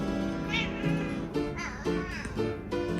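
A house cat meows repeatedly in loud, drawn-out cries close to the microphone, one after another, over a steady background hum with a person talking now and then.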